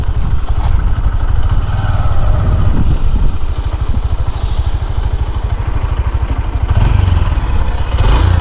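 A 2026 Honda SP 125 motorcycle engine idles steadily up close, a continuous low rumble with rapid regular pulsing and a few light clatters.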